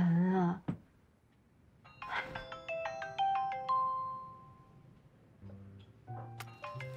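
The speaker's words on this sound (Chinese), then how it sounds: "妈打电话来了" A phone ringtone plays a melodic electronic tune of rising tones for several seconds, fairly loud, with a shout just before it and voices returning as it continues.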